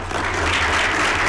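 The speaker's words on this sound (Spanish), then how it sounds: "Por favor, un aplauso." Dense audience applause for the panelists of a conference panel, a continuous loud wash of many hands clapping at once, steady throughout with a low hum beneath.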